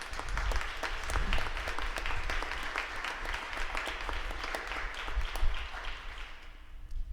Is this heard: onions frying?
no